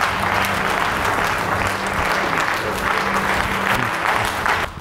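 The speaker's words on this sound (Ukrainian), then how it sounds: "Глядачів вистава пройняла до сліз, а виконавця головної та єдиної ролі проводжали оваціями." Theatre audience gives an ovation to the lead and only actor after a one-man drama, continuous dense clapping from a large crowd over a low hum, cutting off at the end.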